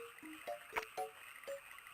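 Frog croaking in the video game Tingle's Balloon Trip of Love, a run of quick, clear croaks spaced irregularly over about two seconds against a faint steady background hum.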